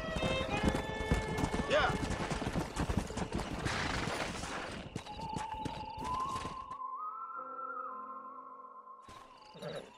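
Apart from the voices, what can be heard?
horse hooves clip-clopping in a video game (Red Dead Redemption)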